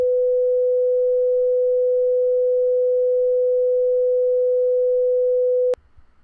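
A single steady pure tone holds at one pitch for several seconds, then cuts off abruptly with a click, leaving faint background noise.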